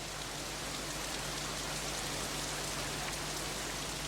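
Torrential rain beats down steadily, a dense unbroken hiss of drops striking surfaces, even in level from start to finish with no voices or other sounds standing out.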